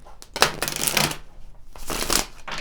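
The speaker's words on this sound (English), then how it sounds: "Let's pull some additional tarot cards to see what else wants to come forward here." Tarot cards riffled and shuffled by hand in quick, papery bursts, close and fairly loud, with a short pause midway before another run of shuffling.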